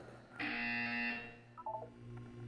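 Chime from the video game Portal 2: a bright electronic tone holding for about three quarters of a second, then a short run of softer quick beeps, all over a low steady hum.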